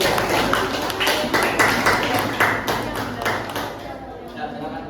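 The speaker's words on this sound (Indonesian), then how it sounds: "kita kasih tepuk tangan untuk kelompok 1." Students in a classroom clap for a presenting group during an Islamic studies lesson, a busy patter of hand claps at close range with a few louder bursts, tapering off near the end.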